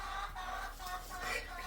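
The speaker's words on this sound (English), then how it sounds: "Chicken." A chicken clucks briefly inside a barn during winter, a short, close burst of nasal fowl calls over steady low background noise.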